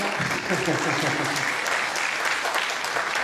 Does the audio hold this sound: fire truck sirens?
no